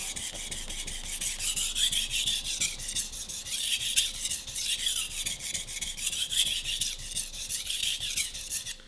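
Kitchen knife worked back and forth on a soft Gesshin 600 grit splash-and-go whetstone, a close, steady rasping scrape in rapid repeated strokes with no voices.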